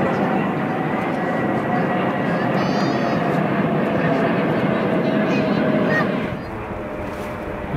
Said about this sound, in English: And the planes.